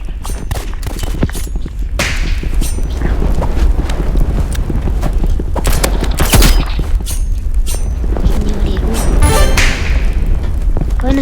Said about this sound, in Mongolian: Жинхэнэ аренагийн assault rifle revolver snipe тэгээд grenade